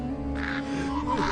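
A crow gives a single short, harsh caw over a steady low hum.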